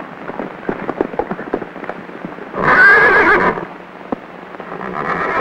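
A horse lets out a single loud, close neigh around the midpoint, set against a scattered background of hoofbeats and rustling noise, in an old adventure film serial.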